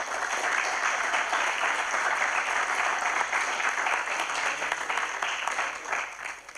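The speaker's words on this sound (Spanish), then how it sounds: "pues un aplauso para él," Applause from a seated audience at a public talk, a dense, steady clatter of many hands that carries on at even loudness for several seconds and tapers slightly at the end, with no voices over it.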